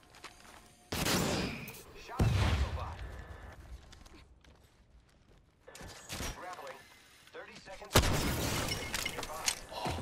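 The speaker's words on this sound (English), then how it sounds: "I was trying to shoot the cargo bot." Gunfire in Apex Legends aimed at a cargo bot: several bursts of loud shooting crackle and boom in separate clusters, with quieter gaps between them, and a player's voice is audible in the background.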